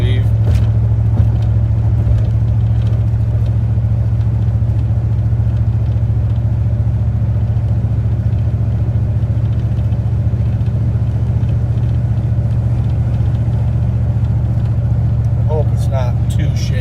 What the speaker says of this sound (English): it kind of gives you good reference as to what the truck sounds like in the cab at what speeds and what RPMs it runs at